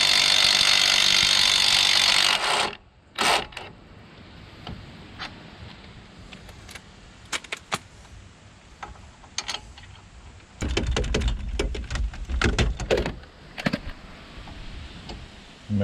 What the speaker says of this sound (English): to take off this caliper, I'm just going to use a wrench because it's kind of hard to get in there